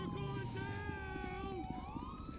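Police siren wailing in GTA 5 during an LSPDFR police patrol, its rising and falling tone sustained over game noise and voices for a couple of seconds.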